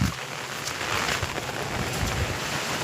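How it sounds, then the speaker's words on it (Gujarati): Drizzling rain falls over a storm-damaged castor field in strong wind, a steady broadband hiss with gusty rumble and no talking. "અત્યારે ઝરમર ચાલુ જ છે વરસાદ"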